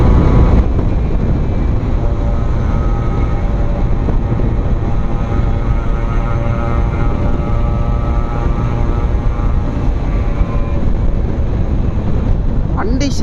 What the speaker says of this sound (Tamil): நம்ம 2 ஸ்ட்ரோக்கில் இந்த அளவுக்கு விரட்டக்கூடாதுங்க வண்டியை